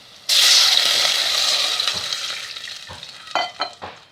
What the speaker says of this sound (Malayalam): ഇനി ഇതിലേക്ക് എടുത്തു വെച്ച വെള്ളം ചേർത്ത് കൊടുക്കുക